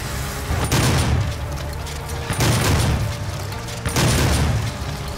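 Double-barrel shotgun blasts in a first-person shooter, three heavy booming shots spaced about one and a half seconds apart, each with a long rumbling tail and mechanical clatter.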